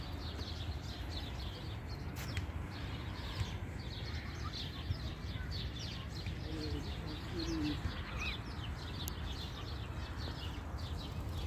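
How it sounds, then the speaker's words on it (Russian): Birds chirp and call outdoors on an evening walk near the sea, faint and scattered over a loud, constant wash of background noise. "Там пение птиц,"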